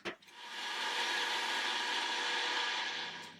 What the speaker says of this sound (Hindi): और इसे जो है बिल्कुल ग्राइंड कर लेते हैं इनटू अ पेस्ट।